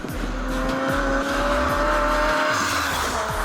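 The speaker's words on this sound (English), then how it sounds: "The revs fly to the limiter and it is just one gear after another in quick succession" A turbocharged Honda City VTEC accelerating hard through the gears, loud and close. The engine rises steadily in pitch with a rapid, repeating pattern of shift points, and no one speaks.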